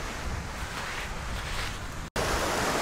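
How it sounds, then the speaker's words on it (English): Strong wind roars and buffets the microphone with a steady, dense rush at a black sand beach on Hawaii's Big Island, cutting out for a split second before resuming just as loud. "it's very windy if you can hear me."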